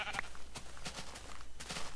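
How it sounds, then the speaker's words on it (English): Minecraft sheep bleat repeatedly in short, nasal calls over a steady background hum, fairly close and clear. "Hey, sheep."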